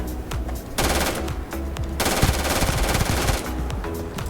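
The Fiscal Quarter gun in Starfield fires in rapid automatic bursts, loud and close, with brief pauses between strings of shots and no talk.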